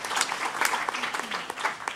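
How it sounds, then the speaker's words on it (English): Scattered audience applause for a speaker at a startup mentoring talk, fairly soft with uneven claps and some faint background voices. "So I think it deserves just another round of applause for Zoe"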